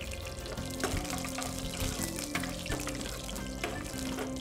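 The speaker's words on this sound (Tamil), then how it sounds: "ஆயில் ஹீட் ஆன பிறகு உளுந்து, சோம்பு, வெந்தயம் அப்புறம் மிளகு, கடுகு ஆட் பண்ணி ஆட் பண்ணிடுவோம். நல்லா பொரியட்டும்." Urad dal, fennel, fenugreek, pepper and mustard seeds splutter in hot oil, giving a dense continuous sizzle and crackle with scattered louder pops over a steady background hum.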